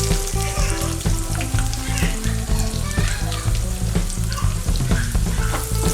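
Chopped onions and cumin seeds fry in hot oil in a pan, giving a loud, steady sizzle with soft crackles and scraping throughout, and no voice.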